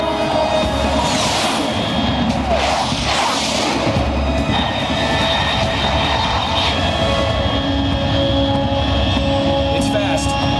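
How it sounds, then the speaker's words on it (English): An unidentified aircraft flying fast at high altitude in Metal Gear Solid 3 makes a loud, continuous engine roar that fills the whole stretch, with a dense low rumble and no break. "Control, unidentified aircraft detected."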